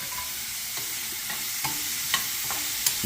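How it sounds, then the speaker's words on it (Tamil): Onions sautéing white in a pan for a home-style mutton curry, a steady soft sizzle with a few brief stirring scrapes and clinks standing out above it. "வெங்காயத்தை வந்து வெள்ளையாக வதக்கணும்"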